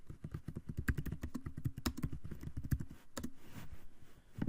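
Rapid clicking of computer keys in a steady run of taps during a task in a computer skills lesson, close and fairly loud, with a brief pause before the typing resumes.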